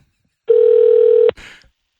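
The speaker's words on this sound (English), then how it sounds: "Give this man a phone call real quick." A single phone call tone on the line, one steady loud tone held for just under a second, ending in a click and a brief muffled noise.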